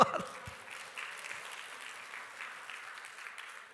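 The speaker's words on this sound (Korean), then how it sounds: "할렐루야 박수로." A church congregation applauds during a Korean sermon. The clapping is soft and distant, a steady wash that continues evenly for a few seconds after a brief knock at the start.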